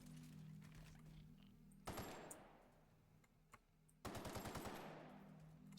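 Rapid automatic gunfire from a gun in the video game The Outer Worlds comes in two sharp bursts, each a quick rattling string of shots that rings out and decays, with a quiet gap between and a final single crack.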